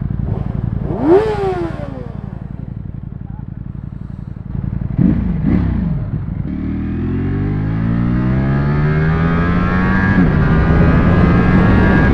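A motorcycle engine blips twice sharply from idle, then climbs into a long, loud, steadily rising rev, heard up close with no talking.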